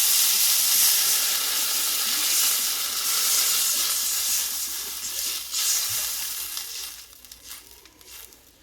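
Water goes into fried spice paste for a Bengali eggplant and hilsa curry. A loud, hissing sizzle bursts up and then fades and thins over several seconds, with no talking.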